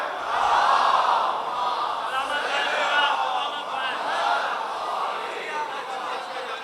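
A large gathered crowd at a religious procession chants salawat together in loud unison, a sustained swelling roar of many voices with no single speaker standing out.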